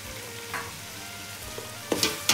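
Mutton biryani masala with mint and coriander leaves being stirred in a pan, a quiet steady sizzle broken by a few brief scraping strokes of the spoon, louder near the end.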